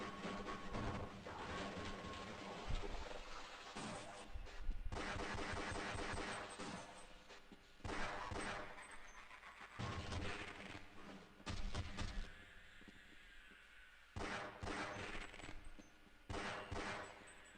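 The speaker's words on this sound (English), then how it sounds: "At least the shotgun has decent range in Half-Life." Repeated shotgun blasts in the game Half-Life: Blue Shift come in loud bursts separated by brief pauses, with heavy clattering combat noise between shots and no talk.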